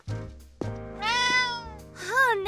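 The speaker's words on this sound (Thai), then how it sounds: "นั่น คือแมวเหรอ" A cat meows in the Bustafellows visual novel game, giving several clear, close, drawn-out meows with rising and bending pitch, alone without talk.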